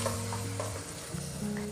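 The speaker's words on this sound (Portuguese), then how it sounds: "Deixe a linguiça fritar um pouquinho, até ela começar a ficar dourada." Diced calabresa sausage fries in butter in a pan with a loud, steady sizzle, while stirring scrapes briefly through it up close; nobody talks.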